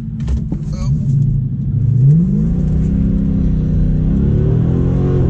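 A Dodge Challenger R/T's engine revs up loudly nearby, its deep exhaust note rising in pitch and then settling into a steady, rumbling idle.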